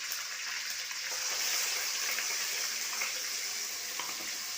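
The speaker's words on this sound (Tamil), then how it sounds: "நல்லா எண்ணெய் திரண்டு வர அளவுக்கு நம்ம இப்போது வதக்கி எடுத்துப்போம்." Ground spice paste sautéing in oil for a chicken curry, a steady soft frying hiss with faint bubbling that holds at an even, moderate level throughout with no voices.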